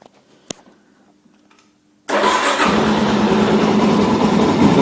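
A Suzuki DRZ400 motorcycle engine, fitted with a manual cam chain tensioner, starts abruptly after a short quiet pause, then settles into a loud, steady, close idle that runs to the end.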